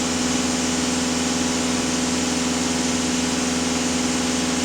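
A VW Passat B8 2.0 TDI EA288 diesel engine held at steady high revs with the throttle floored, a loud, constant droning hum with no pauses, close by and with no talking.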